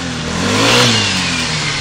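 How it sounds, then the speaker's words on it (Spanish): A Kymco Grand Dink scooter engine revs up on a test, rising to a loud peak then easing back in a brief, close, mid-pitched surge with no voices. "Se ve que sube bien de vuelta."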